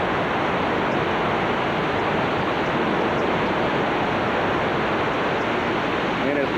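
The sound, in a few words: Hurricane Katrina floodwater flowing down the street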